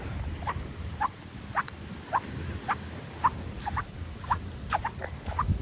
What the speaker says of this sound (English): That sound of the sand.